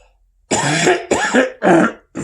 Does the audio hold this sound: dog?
no